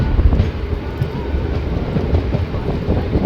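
A Rampurhat–Jasidih MEMU passenger train runs through rain, a heavy low rumble and rattle of the carriages with wind noise, steady and close throughout.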